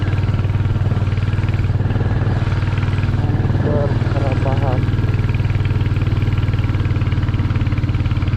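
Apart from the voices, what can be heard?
motorcycle engine climbing a hill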